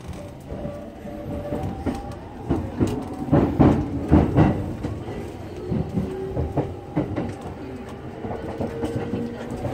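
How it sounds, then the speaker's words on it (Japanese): A Yamanote Line commuter train pulls out of a platform at Shinjuku Station, Tokyo, with rhythmic rail clatter and rumbling, and pigeons call faintly nearby. "渋谷方面の山手線発車です。"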